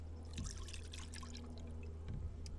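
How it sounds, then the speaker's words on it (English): Freshly squeezed lemon juice is poured through a strainer at a campsite, a faint, quiet trickle with a couple of small splashy drips over a few seconds. "I'm gonna pour it through my strainer."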